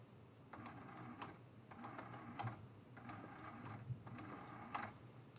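A sewing machine stitches a quilt-as-you-go quilt block in short, evenly spaced bursts of rapid mechanical clatter, with quiet pauses between runs and no speech.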